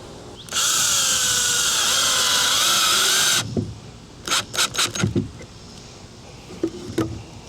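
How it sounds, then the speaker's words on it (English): A power drill whirs loudly for about three seconds, its motor pitch shifting as it drives a screw into a backyard shed frame, followed by a few quick clicks and clatters. "Let me grab the drill."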